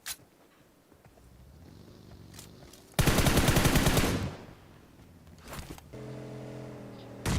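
Mobile battle royale PUBG Mobile: a sudden close, loud burst of rapid automatic fire lasting about a second, set between quieter stretches of engine-like droning and distant single shots.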